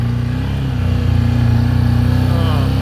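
A Can-Am Maverick 1000R XMR side-by-side engine drones loud and near as it drives over rough test ground behind a shop, its pitch rising and wavering with the bumps.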